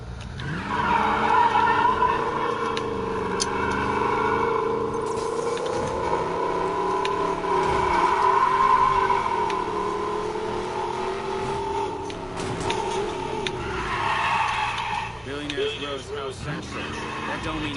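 A Nissan Skyline in the racing game Need for Speed Payback screeches through long tire skids over a loud, steady engine roar, with a person talking over it.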